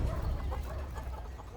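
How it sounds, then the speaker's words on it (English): Fighting cocks cluck and mutter in a faint, busy jumble over low rumbling background noise in a Bali setting. "The fighting chickens are the ones."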